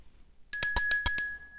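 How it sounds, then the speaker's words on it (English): A notification bell sound effect, a quick run of five or six bright metallic dings that ring out clearly against silence and fade with a lingering tone. "Don't forget to hit the notification bell."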